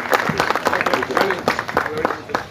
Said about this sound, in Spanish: Un aplauso para los cordobeses